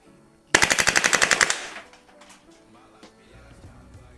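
A WE M4 gas blowback airsoft rifle fires a quick full-auto burst of about a dozen sharp, loud, evenly spaced cracks, followed by faint handling noises.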